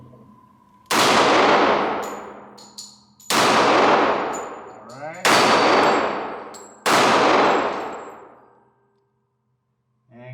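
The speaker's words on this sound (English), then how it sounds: "Now let's see if I still got it. Still got some shooting skills in me." Four loud gunshots from a Tisas 1911 pistol fired at a range, each a sharp blast with a long ringing decay, spaced roughly two seconds apart, with a faint metallic clang between shots.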